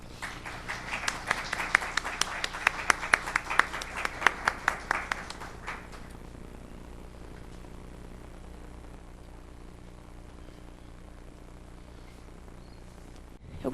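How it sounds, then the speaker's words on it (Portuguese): An audience claps to welcome a speaker at a talk on the Maria da Penha law. Brisk, moderately loud applause lasts about six seconds, then fades into quiet room tone. "Ana Paula da Fonseca Rodrigues Martins, que receba com uma salva de palmas, por favor."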